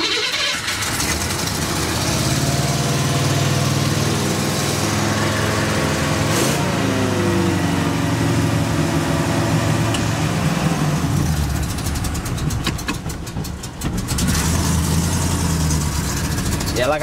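A 1988 Cadillac Fleetwood Brougham engine with a faulty carburetor float runs close by, its revs rising and sagging unevenly instead of holding a steady idle, with a voice talking over it.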